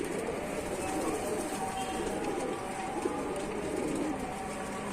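Pigeons coo at a loft of flying pigeons in Tanta, Egypt, faint and low beneath a steady, broad background hiss and hum.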